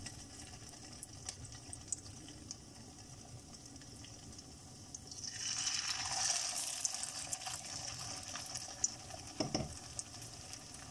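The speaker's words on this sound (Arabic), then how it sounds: "غادي ندوزو نسخنوا الزيت باش نطيبوهم وغادي نوضعوهم في هاد الزيت هكا بهذا الشكل" Chickpea falafel balls drop into hot oil and start frying; a quiet background suddenly swells into a steady, bright sizzle about halfway through, with a brief clunk near the end.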